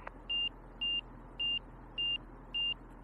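Angle of attack warning tones in an RV-4 aircraft cockpit sound as five evenly spaced high electronic beeps, each about a fifth of a second long, repeating steadily over a constant low engine drone with no talking.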